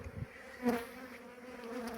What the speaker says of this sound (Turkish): Arı hala çalışıyor.